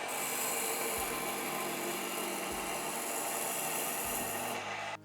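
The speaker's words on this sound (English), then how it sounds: "And now, grind over it, and then we see the deeper scratches." Steel blade ground on a belt grinder with a finer belt, a continuous close abrasive rasp with a steady motor whine, the belt briefly catching about three times and cutting off right at the end.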